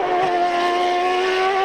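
A CART race car runs at Road America during 2002 Friday qualifying. Its engine gives a loud, steady high-pitched whine for the whole short stretch.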